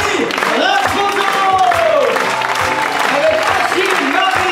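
Circus audience applauding the Rasposo family act, a dense steady wash of clapping with cheers under a ringmaster's voice speaking over it throughout.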